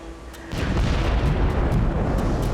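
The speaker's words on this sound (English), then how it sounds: "Did you hear? Those are bombs." Dynamite fishing bombs detonating at sea off Lamalera, heard as a sudden deep boom that swells into a sustained low rumble and roar, loud and continuous after a quieter start, with no talk over it.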